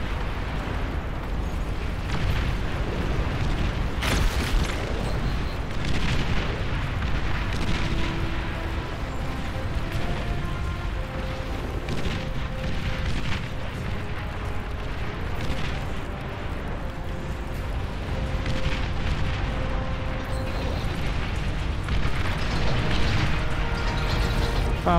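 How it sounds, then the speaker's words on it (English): Heavy bombing in the Beyond All Reason strategy game pounds a huge tentacled target, a continuous, loud barrage of overlapping explosions and booming rumble with scattered pops, unbroken for the whole stretch. "Bombing the shit out of it."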